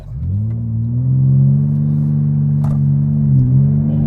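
A 2023 BMW M4 CSL pulling away under launch control, its engine droning loud and steady as revs climb, heard from inside the cabin with no talk.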